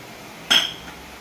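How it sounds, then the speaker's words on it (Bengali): Prawns drop into a bowl of mustard-oil, salt and turmeric spice paste with a single sharp, close clink that fades quickly into quiet room tone. "তো প্রথমে আমি চিংড়ি মাছগুলো এখানে দিয়ে দিচ্ছি"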